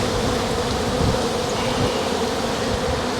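A swarm of honeybees buzzes continuously and densely close by while being caught by hand in gusty wind, the agitated hum steady throughout with no talking.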